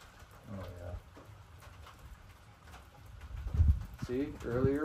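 Birds coo and call outdoors, with a pigeon-like cooing near the end, over soft background noise and some low rumbling.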